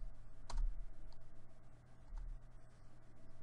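Keys clicking on a computer keyboard while typing Japanese with kanji conversion: a sharp keystroke, a quieter one about a second and a half later, over a steady low electrical hum.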